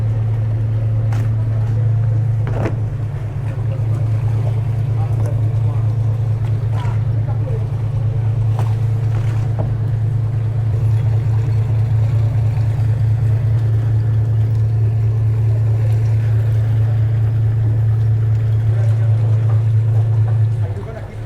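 A deep, steady engine rumble from a Majesty 120 superyacht manoeuvring into its berth drones throughout, with occasional knocks and clatters on top and faint wind noise.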